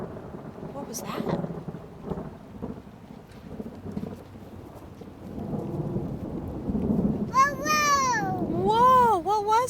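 Thunder rumbles low and long through a rainstorm, swelling and fading several times beneath steady rain, while a small child's high, sing-song voice chatters near the end.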